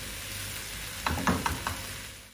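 Food frying slowly over low heat in a pan, a soft steady sizzle with a brief burst of stirring and utensil clicks midway, no voices.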